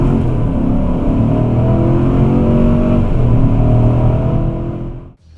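A 2019 Chevrolet Silverado with a 6.2-liter V8 and 10-speed automatic accelerates hard, the loud engine drone rising in pitch and stepping through gear changes before cutting off abruptly near the end.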